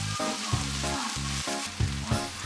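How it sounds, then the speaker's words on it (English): Shredded pork, carrot and wood ear mushroom stir-fried in a hot wok: a continuous close sizzle with a series of rhythmic scraping clatters as the ingredients are tossed. "Stir fry the moor and carrot until they become soft."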